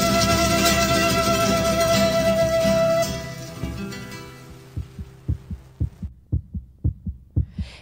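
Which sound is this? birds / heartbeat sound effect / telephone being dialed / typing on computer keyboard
heartbeat sound effect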